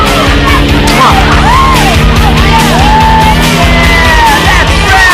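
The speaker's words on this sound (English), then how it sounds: "Stop screaming." A large crowd at a 1990 camp gathering screams and yells continuously, loud and dense, with overlapping whoops and shouts rising and falling over a steady roar.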